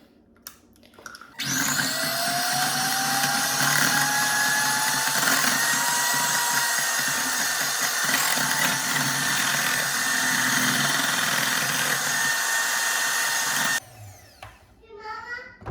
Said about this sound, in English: now we will get our mixer, and we're gonna like mix all of this together